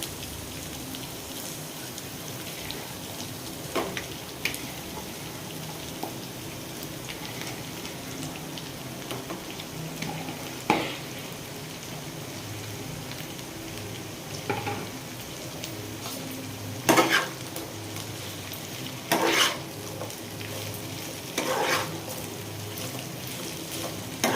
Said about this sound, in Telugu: ఇప్పుడు తరిగి పెట్టుకున్న దొండకాయ ముక్కల్ని ఇందులో వేసుకున్నాము